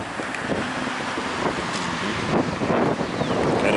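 Strong wind on a sunny, clear-skied afternoon at about 71 degrees, buffeting the microphone as a steady, loud rushing roar with gusty swells, no voices.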